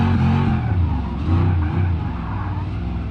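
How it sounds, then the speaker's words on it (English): A game car in BeamNG.drive drifts with its engine roaring and revving in a fluctuating drone, tyre noise mixed in, loud and close, with no talk over it. "this car drifts really nicely too."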